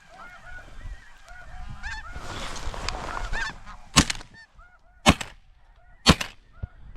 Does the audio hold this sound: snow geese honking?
yes